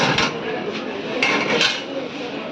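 German silver pooja bowls, plates and trays clink and clatter in a few quick metallic knocks as they are handled on a shop counter, with a light bright ring between the hits.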